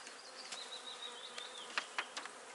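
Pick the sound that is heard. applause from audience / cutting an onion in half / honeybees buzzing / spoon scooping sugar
honeybees buzzing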